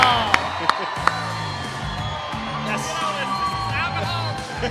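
A live audience at a Las Vegas podcast taping for Champion's Week cheers, whoops and claps for an arriving guest, a loud sustained roar with sharp claps near the start and voices talking over it.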